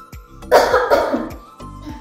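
Several close, loud coughs from one person, a strong harsh burst in the middle with a few shorter coughs before and after, no talking; the speaker has a winter cold and cough.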